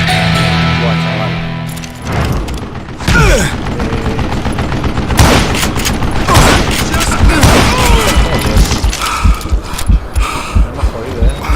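Video game gunfire in dense bursts of rapid shots and booms that hit hard and close over about ten seconds, with excited voices talking over the shooting.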